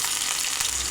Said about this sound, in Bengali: এখন সব কিছু ভালো করে ভেজে দেব।